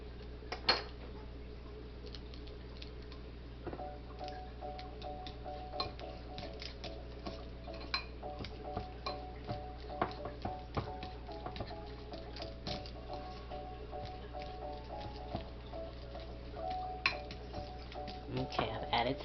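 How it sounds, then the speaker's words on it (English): A utensil taps and scrapes against a bowl as egg yolks are mixed for deviled eggs. The light, irregular clinks and ticks repeat steadily under a quiet kitchen hum, and a person talks intermittently. "now I'm going to mix the yolk"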